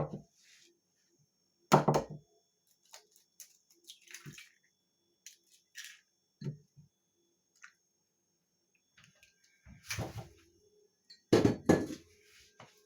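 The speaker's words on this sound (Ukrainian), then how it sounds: "гарненько вимішую. Щоб була однорідна маса" Batter of flour and eggs is stirred in a bowl, giving sporadic wet squishes and soft clinks of the utensil against the dish, with short louder bursts separated by quiet pauses and no talking.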